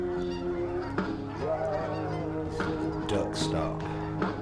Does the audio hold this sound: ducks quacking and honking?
yes